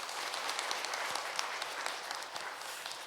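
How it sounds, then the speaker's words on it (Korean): Church congregation applauding during a Korean Sunday worship service, a steady wash of many hands clapping at a fairly soft level throughout, with no voices over it. "잘 다녀오라고 우리 격려의 박수 보내주시기 바랍니다"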